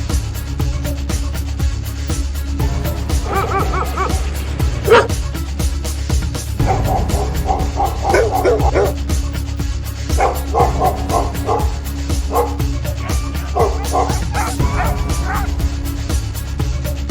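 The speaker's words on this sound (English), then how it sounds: "Dog." A farm dog barks and yips in short bursts, with some whimpering whines between, at moderate distance over a constant low hum, no talking.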